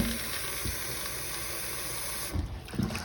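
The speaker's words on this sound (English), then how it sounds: "Run some more water in it." Tap water pours steadily into a pot of black-eyed peas, a continuous close hiss and splash that cuts off near the end, followed by a couple of small knocks and rustles.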